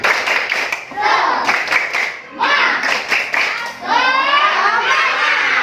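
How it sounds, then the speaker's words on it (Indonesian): Schoolchildren in an Indonesian classroom perform a rhythmic spirit clap, patterned bursts of group clapping interleaved with chanted voices, loud and close. "Sekarang kita tepuk semangat dulu ya. Tepuk semangat."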